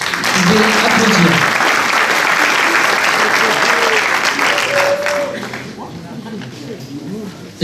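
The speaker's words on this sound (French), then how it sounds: "Vous pouvez applaudir." An audience at a municipal election meeting in Bessan applauds loudly, a dense wash of clapping that starts at full strength, carries on for several seconds and then tapers off, with voices mixed in.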